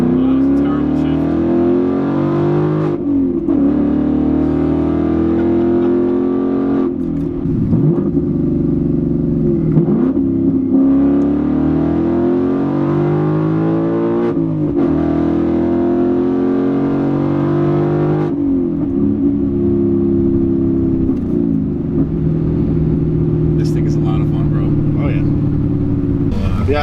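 A 2019 Mustang GT V8 with a manual gearbox accelerates hard through several gears, its loud, close engine note climbing and dropping at each shift, while people talk inside the cabin.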